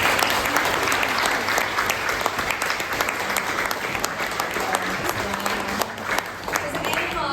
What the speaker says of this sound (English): Please give a round of applause to James.